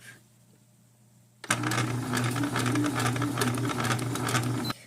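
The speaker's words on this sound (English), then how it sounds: "now we just are really careful putting it through the sewing machine." Sewing machine running steadily as it stitches a corset busk into place, a continuous close whirring hum that starts abruptly after a quiet moment and runs unbroken for several seconds, with no talking.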